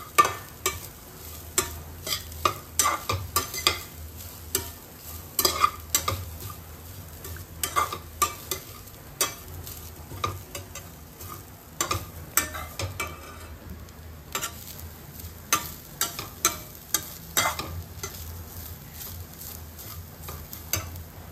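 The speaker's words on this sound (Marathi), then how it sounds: "दोन मिनिटं थोडं मिक्स करून घेऊया" Grated coconut being stirred and mixed in a hot frying pan, a utensil scraping and clicking against the pan in a steady, repeated rhythm over a low sizzle, close and clear with no talking.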